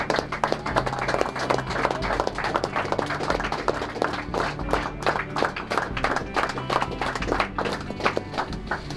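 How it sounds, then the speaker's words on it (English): Crowd clapping for Jürgen, a World War II Tiger tank commander, at a Battle of the Bulge 75th anniversary gathering, brisk loud rhythmic claps from many hands continuing steadily for several seconds, close by. "So we're gonna just clap for him"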